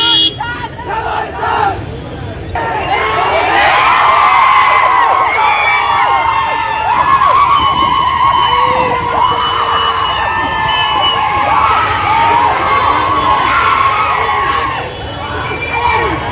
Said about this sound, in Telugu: మన ఫ్యాన్స్ అయితే అరుస్తున్నారు చూడండి.